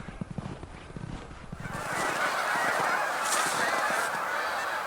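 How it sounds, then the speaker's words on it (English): A flock of geese by a river in winter honks loudly and continuously, the noisy chorus swelling after the first couple of seconds, with faint thumping underneath at the start. "these sensitive geese are very upset by my presence"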